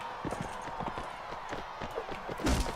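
Horse hooves in Mount & Blade: Warband clatter in a quick, steady clip-clop rhythm at moderate loudness throughout, with a heavier thump near the end.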